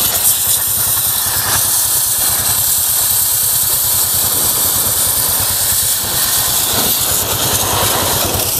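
Water sprays loudly onto the chain of a Honda Wave RS motorcycle being washed, a constant close hiss with a rapid low pulsing beneath it, steady from start to finish.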